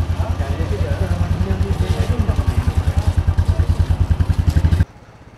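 A fully luggage-packed motorcycle rides out of Shillong, Meghalaya, its engine thumping in a steady, close rhythmic pulse that cuts off abruptly just before the end.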